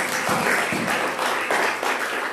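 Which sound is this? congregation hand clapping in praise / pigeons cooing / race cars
congregation hand clapping in praise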